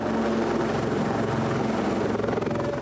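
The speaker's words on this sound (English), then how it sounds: "the Wildcat Army helicopter" A Wildcat Army helicopter at a public event gives a loud, steady roar of engine and rotor with a faint pulsing beat, filling the whole stretch without any talking.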